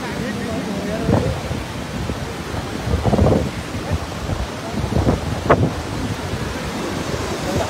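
The Marsyangdi river in flood in Lamjung roars steadily, a broad, loud rushing wash with gusty rumbles and surges throughout, close to the microphone, with no clear talk.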